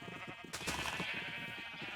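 Minecraft sheep bleat in the middle of a survival world, a sudden onset followed by a sustained, slightly wavering baa over constant background noise.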